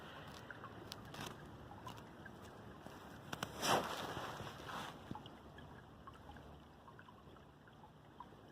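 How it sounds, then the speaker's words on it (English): A partly frozen, snowmelt-swollen stream at a conservation area runs beneath its ice cover, giving a faint, steady trickle and gurgle with a few brief louder splashes midway. "I love that sound of the water flowing underneath the ice."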